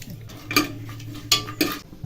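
Whole pulao spices dropped into ghee and oil in a pan, giving three sharp spoon-on-metal clanks against a faint, steady sizzle close by.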